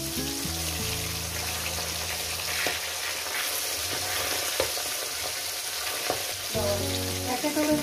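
Pabda fish stirred and fried in a pan, a steady sizzle running throughout with scraping stir sounds at intervals, close and loud with no talk.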